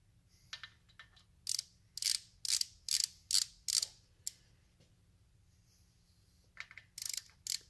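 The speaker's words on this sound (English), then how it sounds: "when you rotate it and he's torquing it down" A ratchet tightening cam plate bolts on a 2004 Harley-Davidson FLHTCU during a Feuling cam plate and oil pump upgrade, sharp rasping clicks in short bursts, a cluster of six strokes, a pause, then a couple more, close up in a quiet garage.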